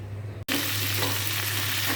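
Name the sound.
radhuni spice tempering frying in oil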